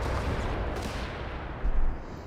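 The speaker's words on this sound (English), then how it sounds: "We got the sappers firing back." Sappers fire back with guns in the WWII strategy game Company of Heroes 3, a dense, continuous barrage of overlapping gunshots and battle noise, with a sharper, louder burst near the end.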